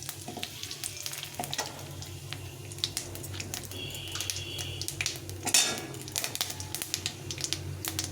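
A dried red chilli, bay leaf and cumin seeds fry in hot oil, giving a steady close sizzle dotted with sharp crackling pops and a few clattering pan knocks, with no voices.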